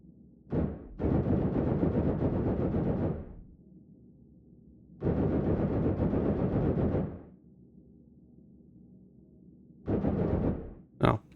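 Spaceship weapons firing in the space game In the Black, three sustained roaring bursts of a few seconds each separated by quiet gaps, loud and dense, with a final short sharp blast.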